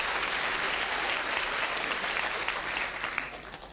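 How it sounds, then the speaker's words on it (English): A Royal Institution Christmas Lecture audience applauds itself, a loud, full burst of clapping from a large crowd that stays dense throughout and thins slightly in the final second. "Give yourselves a big round of applause for that."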